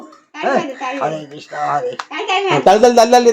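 A baby girl claps her hands, a few soft, quick claps toward the end, mixed in with a child's babbling and an adult's voice.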